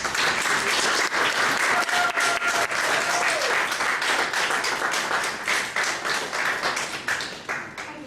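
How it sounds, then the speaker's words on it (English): A room full of people clapping to welcome a presenter at an evening health and success talk, sustained dense applause with distinct individual claps, tapering off toward the end. "could you please give Sonja a round of applause and make her welcome?"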